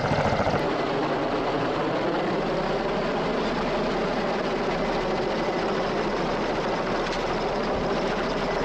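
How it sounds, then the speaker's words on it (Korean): A helicopter ferries cargo containers during construction of the Jang Bogo Antarctic station at Terra Nova Bay, its rotor and engine making a loud, steady, close roar throughout with no talk. "무게가 비교적 가벼운 것부터 헬기가 운반하기로 합니다"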